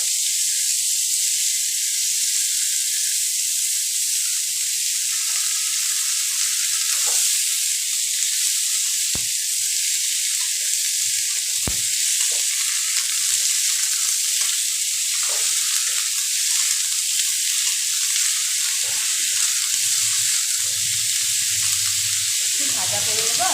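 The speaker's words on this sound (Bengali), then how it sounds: "আমি এবার এই আলু বেগুনগুলোকে তেলের মধ্যে একটুখানি ভাজা করে নেব।" Potatoes and eggplant frying in oil in a home kitchen, a continuous bright sizzle that stays loud and even throughout, with a few brief stirring clicks and no talking.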